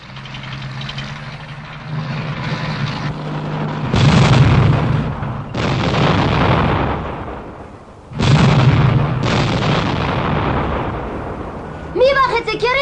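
Artillery shells burst close by in a wartime scene, several heavy booms spaced a couple of seconds apart with rumbling tails, while voices speak between and over them.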